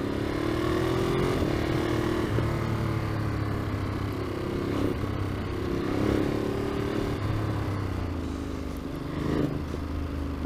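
A 2021 Ducati Monster motorcycle engine running steadily, a low, continuous drone with gentle rises in pitch, heard close as if riding along, with no clear revving bursts.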